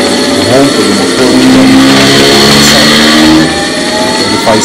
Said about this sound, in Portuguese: observe como o motor ele acelera, vai acelerando, vai aumentando a rotação